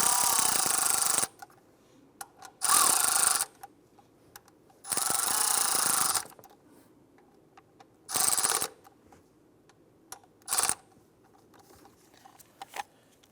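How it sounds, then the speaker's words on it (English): Bolts on a thermostat housing of a 2015–2020 Cadillac Escalade are tightened with a ratchet in several loud bursts of rapid clicking, separated by quiet pauses and a few isolated ticks. "I'm going to try and tighten these down evenly."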